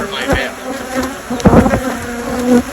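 Africanized bees swarming around beekeepers in a backyard, a close, dense buzzing with individual bees passing near.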